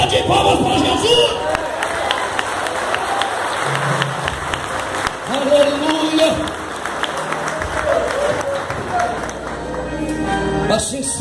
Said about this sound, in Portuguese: Eu quero que você que está aqui nesta noite dê uma linda salva de palmas para Jesus.